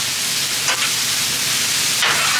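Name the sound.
sirloin steak searing on a Blackstone griddle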